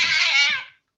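A cat meows once, a single drawn-out, high, wavering cry that is loud and close, alone with no talk.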